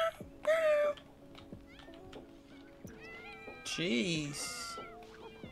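Cats meow repeatedly in a life-simulation game while a player sits knitting, with a mix of short mews and one longer, louder caterwaul near the end, heard over soft game music with a brief spoken exclamation.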